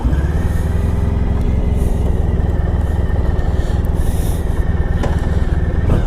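A 1994 Honda ST1100 touring motorcycle engine running steadily, a loud, constant low rumble that goes on without a break and carries no speech.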